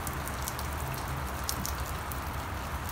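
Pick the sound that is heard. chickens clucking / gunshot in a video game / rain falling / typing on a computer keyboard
rain falling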